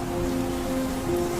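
Steady, dense rain pours throughout a TV drama scene, a continuous close hiss with a faint sustained tonal hum beneath it and no voices.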